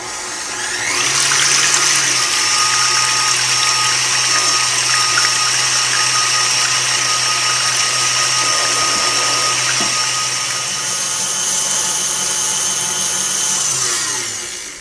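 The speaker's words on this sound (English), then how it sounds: "it takes a lot of muscle grease to make some butter, so I decided to use my machine" A kitchen machine whips cream toward butter, its motor whirring loud and steady for about fourteen seconds after a quick start, then winding down at the end; nobody speaks.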